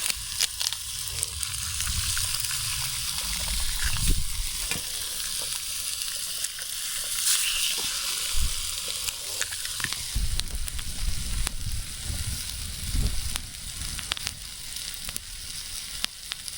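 Ham and eggs sizzle steadily in a pan over an outdoor campfire, a loud, continuous hiss of frying with occasional scraping and clatter, no voices.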